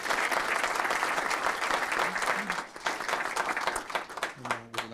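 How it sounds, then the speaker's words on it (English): Audience at a city council meeting applauds in a dense burst of clapping that thins and fades out near the end, where a voice briefly starts to speak. "And before we turn the mic over to Jaden, let's give her one more big round of applause, please."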